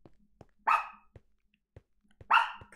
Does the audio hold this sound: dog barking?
yes